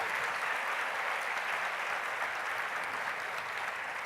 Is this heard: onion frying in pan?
no